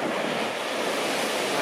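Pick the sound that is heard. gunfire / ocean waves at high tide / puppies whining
ocean waves at high tide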